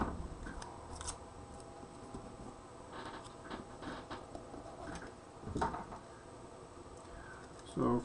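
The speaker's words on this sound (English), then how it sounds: "tape this down real quick" Tape is pulled off a roll and pressed down to hold paper in place, giving several short tearing and crinkling bursts, quiet and close, separated by softer handling noises.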